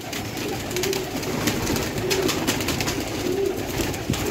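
Pigeons of a pure Mian Nazir bloodline cooing on a rooftop, soft repeated coos in a dense, noisy outdoor backdrop with steady wind-like rush throughout.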